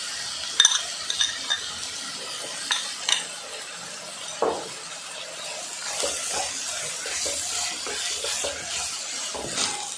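Grated dry coconut being sautéed in a pan for spicy kat vada, with a spoon scraping and stirring in short, uneven strokes and faint clinks over a soft background, no voices.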